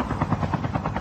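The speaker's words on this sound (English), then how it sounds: "When a chopper is coming, guys, chopper, get away." Helicopter in the Call of Duty Mobile video game, a loud, close rotor thump beating in a fast, steady rhythm that fills the moment on its own.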